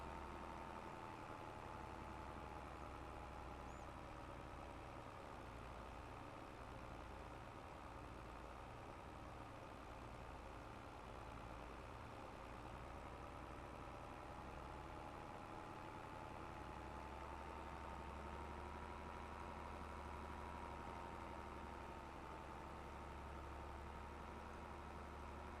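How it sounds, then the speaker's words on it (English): A used tractor with 32 hours on it idles in Farming Simulator 22, a faint, steady engine drone with a low hum and a mid-pitched whine holding for the whole stretch. "This poor tractor's already got 32 hours on it."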